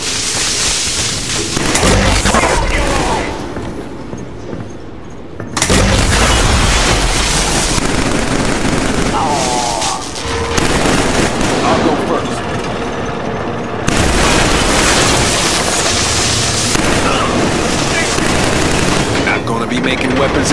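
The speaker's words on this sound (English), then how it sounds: "Missile fire!" Missile fire and explosions in the Killzone 3 video game on PS3, a loud, dense battle din of booming blasts and gunfire rolling on for twenty seconds, with voices mixed into the chaos.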